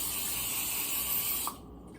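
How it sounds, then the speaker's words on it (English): Olive oil sprayed from a can onto a pan, one loud continuous hiss lasting about a second and a half, close up, then cut off sharply with a faint click. "Okay, olive oil. You're gonna spray it on the pan."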